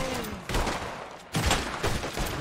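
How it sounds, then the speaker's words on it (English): Rapid gunfire in Red Dead Redemption 2, a loud burst of shots followed by a short pause and then another volley of sharp cracks, with no talking. "He getting shot at again, jeez."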